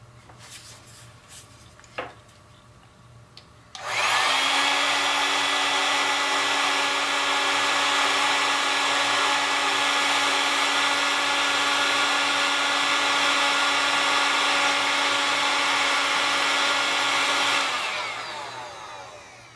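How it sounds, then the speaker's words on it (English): A heat gun shrinks heat-shrink tubing on a radio power cord. After a few light handling clicks, it switches on with a loud, steady whirring hum that holds for about fourteen seconds before winding down. "And we just heat shrink that little dude."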